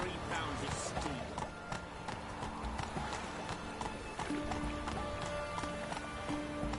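Roach, the horse in The Witcher 3, gallops steadily, a continuous drumming of hoofbeats carried along inside dense, constant game ambience with no pauses.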